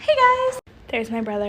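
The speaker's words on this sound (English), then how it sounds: "That's my cat." A pet cat gives two clear meows indoors, one drawn-out cry followed after a short gap by a second rising meow, close and loud, with someone speaking over them.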